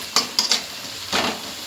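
Curry leaves, onion and green chili sauté in hot oil for fish curry, a soft sizzle under three quick metallic spoon scrapes against the pan, then a longer stirring scrape, close up.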